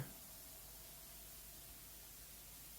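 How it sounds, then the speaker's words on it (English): A steady layer of faint tape hiss sits in an FL Studio music track, a flat, continuous, quiet noise bed with no rhythm or change, and no voices. "we have just this little tape hiss back here."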